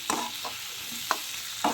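Tomatoes with spices for a mutton gravy sizzle quietly in a pan, with a few soft stirring scrapes at irregular intervals over a steady low frying hiss.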